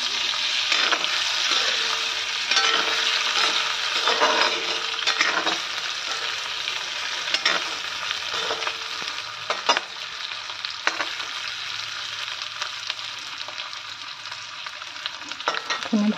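Sliced potatoes frying in hot oil in a pan, a steady dense sizzle with occasional stirring scrapes and clicks, close and continuous throughout.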